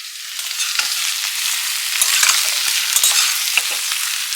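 Chicken pieces and vegetables frying in a pan for a stew, a steady loud sizzle broken by scraping stirs and clinks of a spatula, with no voices.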